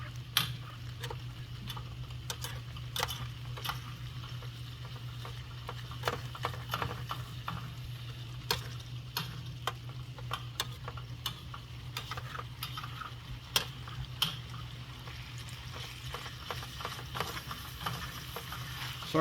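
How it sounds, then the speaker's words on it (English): Onion is stirred into a meat mixture in a pan, with steady close scraping and clicking of a utensil and a soft background sizzle under a constant low hum. "mix the onion into the meat mixture"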